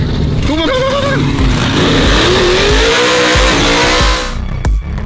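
An LS twin turbo truck engine revs hard and loud, with rising and falling pitch sweeps over a dense roar, a brief tire squeal and some voices in the background.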